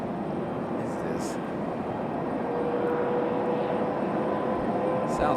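A Southwest Airlines airplane passes at Raleigh-Durham International Airport, a steady broadband engine roar holding throughout, moderately loud, with a faint thin whine emerging in the second half.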